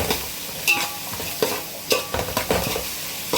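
Onions sizzling and frying in a pan for Hyderabadi biryani, a soft steady crackle broken by several sharp scraping stirs of the utensil against the pan, close and without talk.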